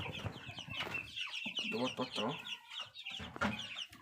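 Indian and young Fayoumi chickens cluck close by in a busy, overlapping chorus of short calls, with a voice talking in the background.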